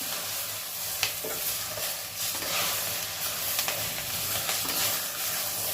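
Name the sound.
spinach being sautéed and stirred in a pan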